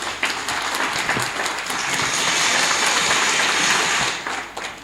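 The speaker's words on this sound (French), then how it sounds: "vos applaudissements pour Leïla" Warm audience applause at a diploma ceremony at IADL Thiès, a dense rain-like patter of many hands that swells slightly, holds steady, then begins to fade near the end.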